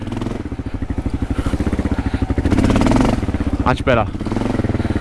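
An adventure motorcycle on Bridgestone AX41 tyres thumps along gravel with a loud, pulsing engine, surging briefly as the rear wheel spins, while the rider speaks a few words.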